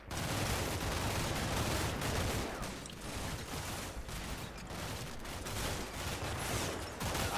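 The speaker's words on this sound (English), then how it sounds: "quite a complicated firefight going on here" Dense, continuous gunfire from a firefight in the war game Combat Mission Shock Force 2: overlapping rifle and machine-gun bursts roll together into a loud, unbroken barrage that lasts throughout.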